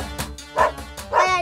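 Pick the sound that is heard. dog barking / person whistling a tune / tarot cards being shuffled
dog barking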